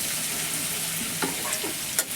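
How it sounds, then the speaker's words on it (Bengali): Sliced potatoes are sautéed with turmeric in oil in a pan, producing a continuous close sizzle broken by a few sharp stirring clacks of a utensil, with no talking. "হলুদ দিয়ে কিছুক্ষণ এটাকে কষিয়ে নিচ্ছি"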